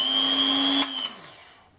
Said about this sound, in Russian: Вот так вот он включается.